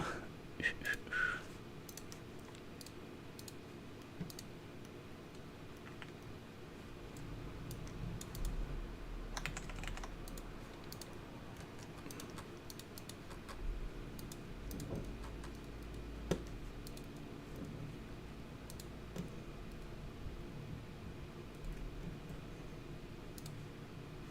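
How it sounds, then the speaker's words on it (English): Steady computer keyboard typing mixed with mouse clicks runs throughout at low level, with a constant background hum and a few brief whispered words. "I know it's a lot of clicking right now."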